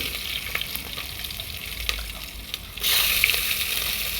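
Whole spices, bay leaf, star anise, cinnamon, cardamom, kasuri methi, green chillies and a large onion fry in oil for chicken biryani: a steady close sizzle with stirring scrapes, which swells into a louder hiss partway through.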